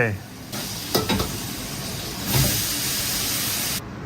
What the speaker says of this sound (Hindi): लो जी सब्जी फ्राई हो चुकी है।